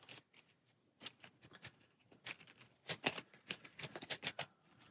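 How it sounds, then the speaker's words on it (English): Cards being shuffled for the board game Aeon's End, quick clustered riffling snaps and taps, close and soft, coming in bursts with short pauses. "it's time to shuffle up for another round"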